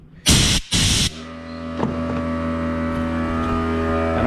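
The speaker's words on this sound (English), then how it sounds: "Sorry, I'm trying to talk over the air compressor" A workshop air compressor runs with a steady mechanical hum and drone after two brief loud bursts of blown air, a small engine carburetor repair setting, continuous and moderately loud.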